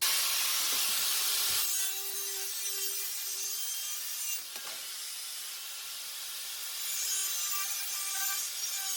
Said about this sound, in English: now I'm going to cut it out